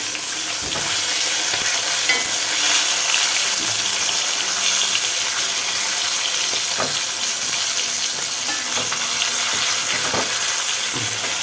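Food sizzles and crackles in hot oil close by, a steady frying hiss with occasional stirring clinks and scrapes.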